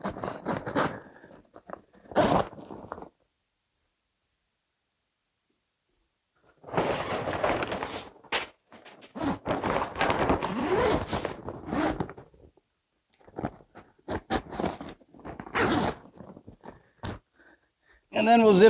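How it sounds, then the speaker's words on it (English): Zippers pulled along the fabric of a 5 x 5 Gorilla grow tent, several sharp zipping runs in bursts separated by a long quiet gap, close and clear, with some talking between strokes. "I like to just take these zippers all the way through."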